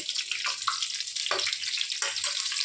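Bok flower (bak phool) fritters frying in hot oil, a steady close sizzle and crackle running throughout with no talk over it.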